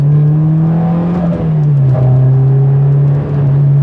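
A right-hand-drive JDM Honda S2000 fitted with a Skunk2 Mega Power exhaust drives along, its loud steady engine drone shifting slightly in pitch with throttle, rattling faintly underneath.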